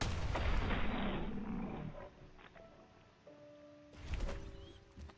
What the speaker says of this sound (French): Fusil à pompe, y'a que ça de vrai, hein.